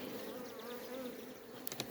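Honeybees buzz at a hive in a steady close drone of many wings, with a couple of brief clicks near the end and no talking.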